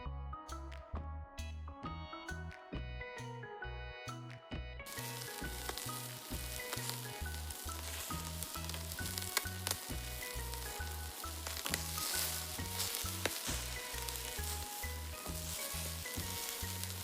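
Marinated meat skewers sizzle on a barbecue grill with a steady, dense crackle close by. The sizzle runs continuously over a rhythmic background pulse, and no one speaks.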